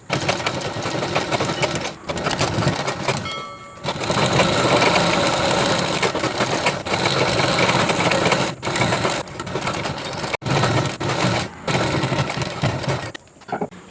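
Sewing machine stitching a decorative border onto the front of a chudidhar top, a close, steady mechanical whir running almost continuously with a few brief pauses between bursts of stitching.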